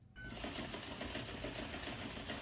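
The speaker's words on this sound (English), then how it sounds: "We're gonna sew right along here." Sewing machine stitching a jeans seam at a 3/8-inch seam allowance, running steadily and close after a brief quiet start, with a fast even mechanical rhythm that continues throughout without talk.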